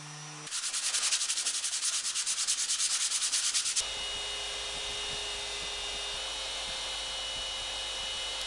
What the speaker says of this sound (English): I sand the both faces of the lid before gluing on the handle.